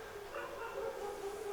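Dogs barking in a residential neighbourhood, distant and muffled, a faint steady yapping texture running through the whole short stretch with no clear individual barks standing out.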